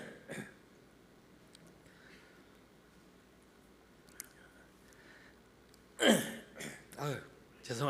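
A preacher suffering a persistent cough during a church sermon lets out a short cough early on, then after a quiet stretch a louder, rougher burst near the end that runs into some speech.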